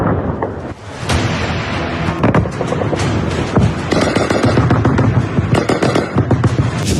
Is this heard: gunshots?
yes